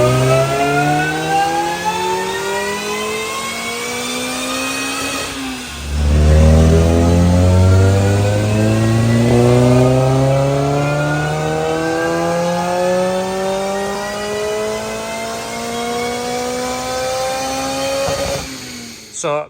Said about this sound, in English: We're going to put it on the dyno and do some back-to-back runs